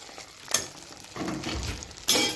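Sweet pongal stirred in a pan with a generous amount of ghee: soft scraping and squishing strokes, with a couple of sharper scrapes, close and moderately quiet, with no talking.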